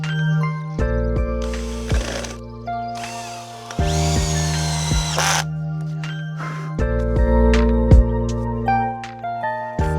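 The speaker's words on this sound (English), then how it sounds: "I'm gonna secure it up with more screws as we go." A power drill drives screws into a wooden towel rack made from a fallen tree, for a DIY sauna. It gives several short whirring bursts with pauses between, close and clear over a steady background hum.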